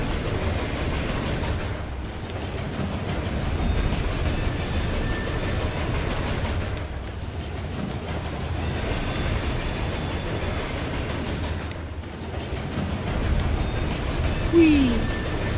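Ghost train in the video game Murdered: Soul Suspect, a steady low rumble with rolling rail clatter that swells and fades across the whole stretch, with voices talking briefly over it.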